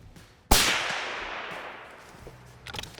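Single suppressed rifle shot from a Thompson/Center Encore, a sharp crack followed by a long fading outdoor echo, loud and isolated with faint background sound.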